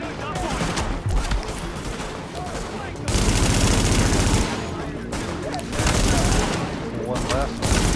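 AK rifle fire in Tom Clancy's The Division, loud bursts of rapid automatic shots that come in several separate volleys with short lulls between them. A voice speaks now and then in the background.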